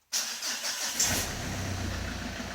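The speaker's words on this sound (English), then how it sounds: "Sounds like a diesel." A car engine that sounds like a diesel starts abruptly and settles into a steady, clattery idle, close by and moderately loud.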